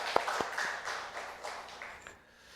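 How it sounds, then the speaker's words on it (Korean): A church congregation gives a short round of thanks applause after a Korean sermon, a dense patter of claps lasting a couple of seconds and then tapering away. "8월 한 달 주신 하나님 앞에 감사의 박수를 올리겠습니다."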